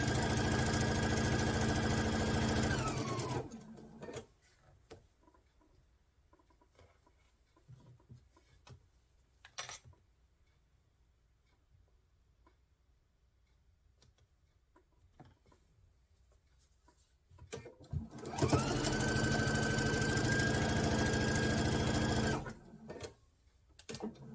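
A sewing machine stitches a quilt block seam in two loud, steady whirring bursts, one at the start and one near the end, with quiet handling clicks in the pause between.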